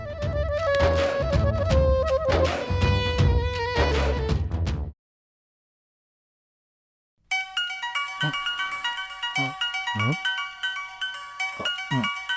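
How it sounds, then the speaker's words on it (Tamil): A phone rings at night in a home in a Tamil TV drama. A bright melodic ringtone plays loudly, cuts off into a few seconds of silence, then starts again with a similar jingle. "இந்த நேரத்துல யாரும் உனக்கு ஃபோன் பண்றது?"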